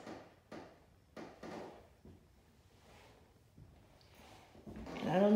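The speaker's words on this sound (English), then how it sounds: "You can hear the floors are very creaky" Creaky old wooden floorboards in a quaint vintage shop give a few sharp creaks and groans underfoot, spaced irregularly at moderate loudness, with a brighter rustle near the end.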